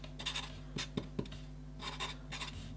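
A pen scratches on a surface while a formula is written out by hand, with short irregular strokes and taps at close range over a low background hum.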